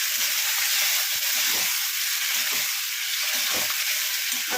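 Potato pieces fry in a pan for an aloo posto, a steady close broadband sizzle with faint bubbling and scraping underneath, no voices.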